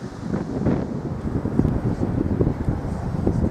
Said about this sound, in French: Paysage acadien avec un peu de vent.